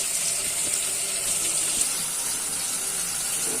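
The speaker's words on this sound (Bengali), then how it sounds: "আর চুলায় মাছ ভাজা হইতেছে।" Fish fries on a kitchen stove, giving off a steady, dense sizzling hiss that holds even and close for the whole stretch, with no voices.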